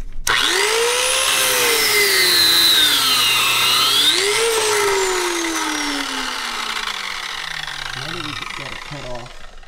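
A power tool cuts through a hydraulic hose near its fitting, producing a loud whining drone whose pitch rises and falls as the blade bites, then slowly winds down at the end.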